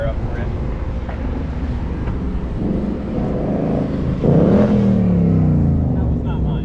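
A 2023 Porsche GT4 engine runs with a rumbling idle that rises into a rev, loud and close, with a voice talking over it.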